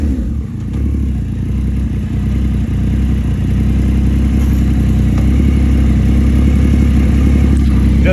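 A motorcycle just back from a clutch adjustment rides along on a test drive, its mid-pitched engine droning steadily and loudly throughout with road rumble and light clatter, no voices.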